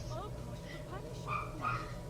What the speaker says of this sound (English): There's my dog barking again.